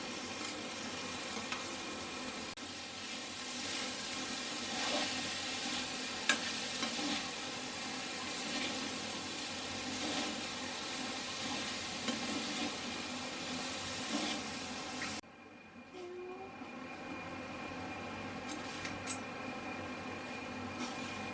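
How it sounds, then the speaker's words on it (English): Rice with vegetables and paneer stir-fried on high flame for Jain Chinese fried rice, a steady loud sizzle with stirring scrapes running without talk, then dropping abruptly to a quieter hiss near the end. "You have to continuously mix this rice and cook it on a high flame so that we get that Chinese taste."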